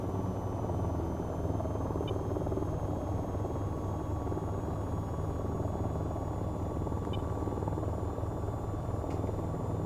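An AH-94 attack helicopter in the VR flight game VTOL VR gives off a loud, steady rotor and turbine drone that holds at an even level throughout, with a faint high tone running above it.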